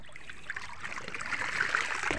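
Water flows and trickles into a clogged piggy bank, a steady close gurgling stream that grows slightly louder toward the end, with no talking.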